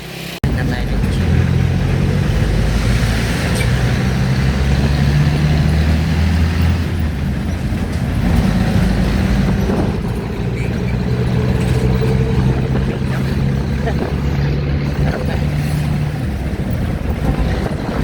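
A jeepney engine drones steadily while riding in Subic, Zambales, with loud road and wind rumble throughout and faint traffic noise.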